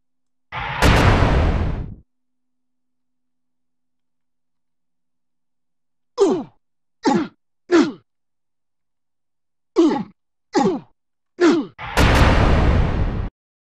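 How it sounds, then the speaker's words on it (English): Unity game sound effects played through Master Audio with a slapback echo: a loud burst at the start and end, and between them six short punchy hits in two groups of three, each with a quick doubled repeat, separated by silence. "Now let's compile and hear the slapback on all the effects"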